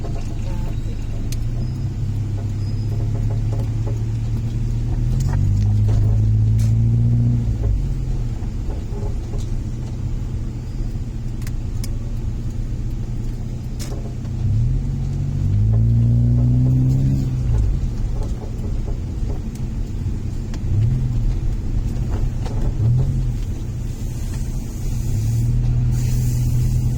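Town road traffic during a fiesta: continuous low rumble of cars, buses and trucks, with repeated hiss-and-whine bursts of air brakes and engines revving nearby, steady and loud throughout.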